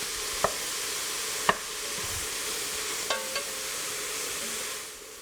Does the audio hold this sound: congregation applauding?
no